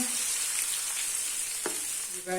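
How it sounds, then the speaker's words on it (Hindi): Ginger garlic paste frying in a pan for biryani, a steady close sizzle with a brief scrape of stirring near the end. "इसमें हम डालेंगे 1 टीस्पून अदरक लहसुन का पेस्ट, हम 1 मिनट के लिए फ्राई कर लेंगे"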